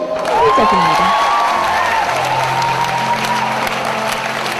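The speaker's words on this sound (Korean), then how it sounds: "자신들의 언어로 된 찬양을 어슬프게 부르는 모습이 대견하고 고마운 모양인지 환호성과 박수가 터져나옵니다" An audience in Ghana bursts into loud cheering, whoops and applause after a choir sings a local hymn, a dense close roar that carries through to the end.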